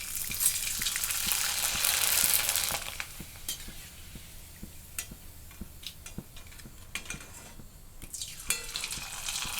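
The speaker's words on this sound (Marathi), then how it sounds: "तेल छान असं तापलंय, मी एक पापडी टाकते त्याला" A rice-flour papad fries in hot oil heated on a gas stove, giving a loud dense sizzle that eases after a couple of seconds into a steadier crackle with scattered sharp pops and ticks.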